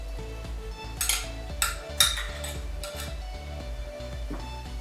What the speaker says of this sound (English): I'm just using a spoon, but you can also use your hand if you like.